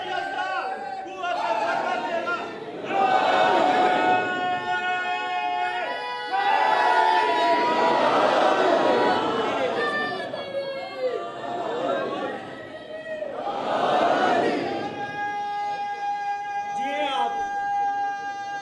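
Audience at the back of a religious gathering shouting a slogan together, a loud crowd chant rising in several surges over about eighteen seconds, with a speaker's voice mixed in.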